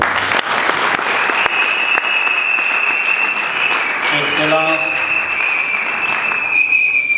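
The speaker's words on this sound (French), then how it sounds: "si on peut l'acclamer" Sustained crowd applause at an evening gathering in honour of God, loud and continuous, with a steady tonal whistle or feedback ringing through it and a voice briefly audible underneath.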